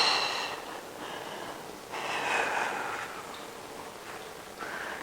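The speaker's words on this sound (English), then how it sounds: "Exhale." Breath pushed out during a mat exercise, heard as soft airy exhales with a rough, snorting edge that rise and fall in two or three gusts, close and fairly quiet.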